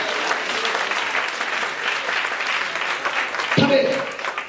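A crowd claps steadily in sustained applause at moderate loudness, with a short sharp knock near the end.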